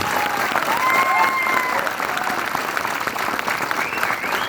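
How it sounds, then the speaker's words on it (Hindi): A crowd at a motivational seminar in Narayanpur applauds a young woman, sustained even clapping throughout, with a few thin whistle-like tones floating over the rumble of hands. "मैं चाहता हूं एक बार इस बच्ची के लिए जोरदार तालियां होनी चाहिए।"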